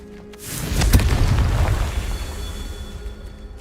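A Confringo fire spell explodes in Hogwarts Legacy with a deep, booming burst that swells suddenly and then fades into a long rumbling tail, loud and close.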